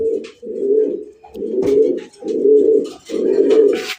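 Pigeons at a breeding farm coo close by in four repeated low, throaty rolling phrases, loud and evenly spaced, with faint chirps and rustles in the background.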